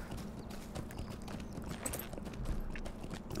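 A horse's hooves clip-clop steadily at a walking pace in the online game Lord of the Rings Online, a quiet, continuous rhythm of hoofbeats with no talk over it.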